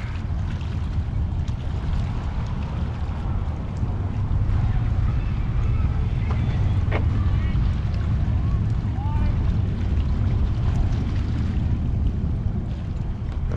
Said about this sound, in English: It's a neat boat.